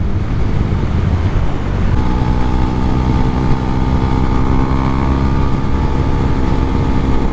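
A Husqvarna Svartpilen 401 single-cylinder motorcycle pulls hard under steady throttle, its loud, buzzing engine note rising in pitch amid constant wind rush, close and continuous.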